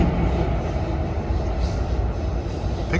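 A Metro North commuter train rumbles by on a bright day in Harlem, a loud, steady broadband roar of rolling wheels close by, with no speech over it.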